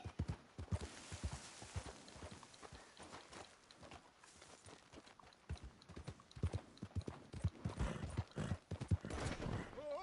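Horse hooves clip-clop steadily along a trail in Red Dead Redemption 2, a busy rhythmic trot that runs for the whole stretch with varying loudness and some background game sound.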